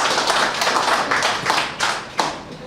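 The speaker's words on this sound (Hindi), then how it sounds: "एक बार वृंदावन राजसल जी के सम्मान में भी जोरदार ताली बजा दो।" Audience clapping at a Hindi comic poetry gathering (kavi sammelan), a brisk rhythmic burst of hands that thins toward the end, leaving a few distinct sharp claps standing out alone.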